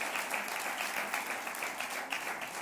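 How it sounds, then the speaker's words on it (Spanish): A church congregation applauds during a service, a soft, continuous patter of many hands heard at a distance, fairly even and low in level with no voices standing out. "damos un aplauso al Señor"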